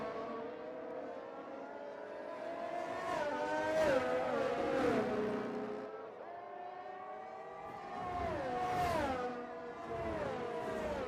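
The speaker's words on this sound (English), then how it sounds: "So I can see Harry is warming up his tyres." An F1 video game race car revs its engine through long, sweeping pitch rises and falls while warming its tyres, the engine tone loud and close throughout.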